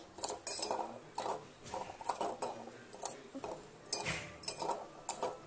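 A spoon stirs a milk mixture for palkova, making soft repeated scrapes and light clinks against the vessel in an irregular rhythm, close and quiet, with no voices.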